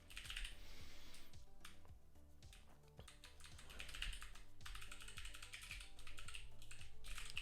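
Continuous typing on an Atreus computer keyboard, a rapid, close stream of crisp key clicks with brief lulls, no voices.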